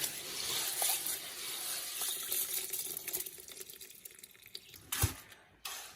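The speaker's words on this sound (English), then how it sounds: "I also wash it off, and I also drain it to make sure that they are clean and ready to be soaked." Hemp seeds being rinsed and drained in water for carp fishing bait, with close water trickling and dripping, a few sharp splashy knocks near the end and no talking.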